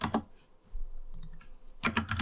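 Typing code on a computer keyboard in quick close bursts of clicky keystrokes, with a short pause in between.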